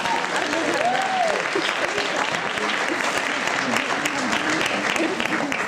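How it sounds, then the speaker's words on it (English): Audience applause for the mayor at a youth public-speaking challenge event, continuous dense clapping from a crowd throughout, with voices faintly underneath. "I think the applause should be entirely for the speakers"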